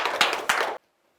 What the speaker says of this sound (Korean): 힘차게 박수해 주시기 바랍니다